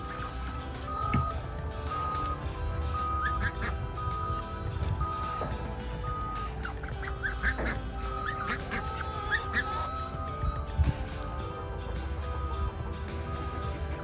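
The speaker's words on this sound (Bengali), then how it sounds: "হাঁসগুলি আস্তে আস্তে বড় হয়ে যাচ্ছে" Young, growing farmyard ducks being fed quack intermittently in short, nasal bursts, moderately close, over a busy background of outdoor noise.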